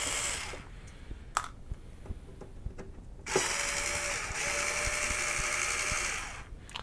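An electric screwdriver drives short screws in two sustained whirring runs, the second longer and louder, with small clicks and knocks between them and no talking.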